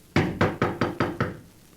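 Five firm knocks on a wooden door in an old-time radio drama, evenly spaced and close, each ringing briefly before the next, with quiet afterward.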